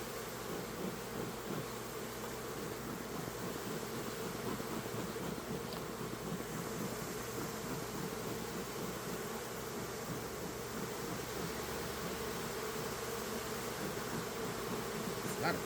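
Honey bees in an open hive during a second spring inspection, a dense, steady buzzing swarm sound held close and even throughout, with no talk.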